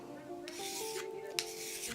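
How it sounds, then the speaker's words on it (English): Steady rasping of fine abrasive sanding a silver ring, continuous and close, with a faint tonal hum underneath and one brief sharper scrape. "Then it's sanding time."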